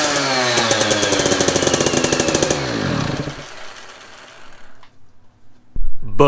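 A dirt bike engine idles with a rapid, even buzzing putter, then the revs drop away and the sound fades out to near silence, followed by a couple of sharp mechanical clunks close by.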